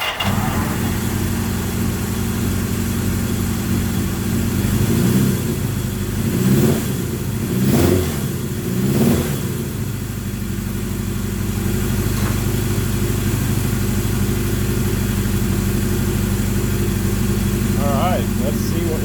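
A 1978 Kawasaki KZ650 motorcycle, started by jumping the ignition with a screwdriver, cranks with a few sputtering bursts and then settles into a loud, steady running engine heard up close.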